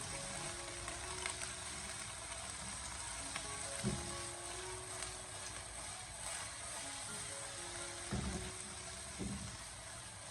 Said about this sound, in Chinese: 开大火将花生芽进行快速的煸炒一下